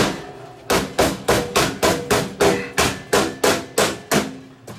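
Repeated metallic hammer strikes, about a dozen evenly spaced blows, loud and close, each ringing briefly before the next hit.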